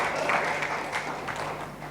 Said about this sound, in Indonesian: Yang setuju berikan tepuk tangan meriah buat Tuhan kita.